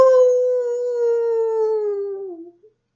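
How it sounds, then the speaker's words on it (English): A single long, close wolf howl that holds steady and then slowly sinks in pitch before trailing off, loud and alone. "The wolf howled in pain and shot right back up the chimney."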